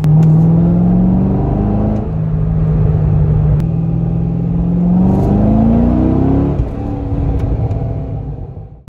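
A C6 or C7 Corvette pulls hard in second gear from about 2,500 RPM on badly worn tires that break loose, its engine droning and rising in pitch through a steady, loud, close roar with no speech.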